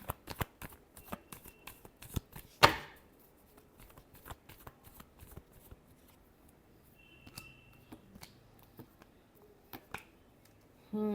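Tarot cards being shuffled by hand in a quiet room, a series of crisp riffling flicks and soft card slaps in uneven bursts, with one sharper snap early on.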